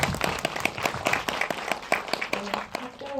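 Audience clapping after a film screening Q&A, a dense stretch of applause from a seated crowd, steady and moderately loud, thinning toward the end.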